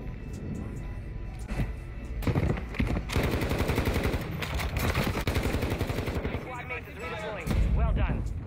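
Gunfire in the Warzone 2 video game, with rapid automatic bursts crackling in dense rhythmic volleys, loud and close, mixed with scattered single shots and game effects.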